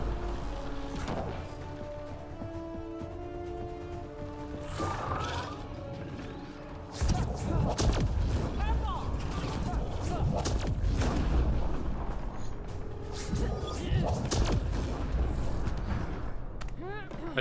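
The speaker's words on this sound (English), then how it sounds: "I do love hearing explosions." In Mass Effect Andromeda multiplayer combat, missile explosions and heavy booms go off in a loud, clustered series, the barrage thickening after a quieter opening stretch, with a player talking throughout.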